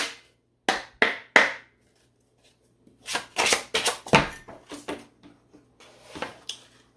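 Tarot cards shuffled and drawn by hand, close and crisp: a few sharp riffles at the start, then a run of quicker card flicks and slaps, with no talking.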